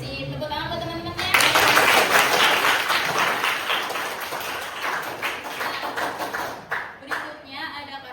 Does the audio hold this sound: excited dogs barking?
no